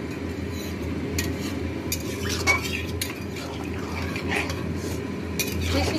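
Water is added to cauliflower and potato curry frying in a pan, then stirred. A spoon scrapes and clinks against the pot over a constant low background hiss and hum, with no talking.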